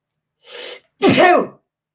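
A single loud, close sneeze: a brief sharp inhale followed by an explosive burst, then silence.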